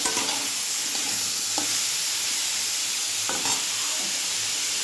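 Prawns fry in a hot pan with a steady, close sizzle that lasts throughout. A few soft stirring scrapes are heard along the way.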